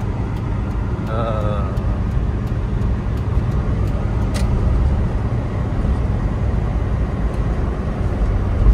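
A 1996 Toyota Kijang Grand Extra cruises on a toll road, its steady engine drone and road rumble heard from inside the cabin, with a few faint clicks and a brief chirp over the constant noise.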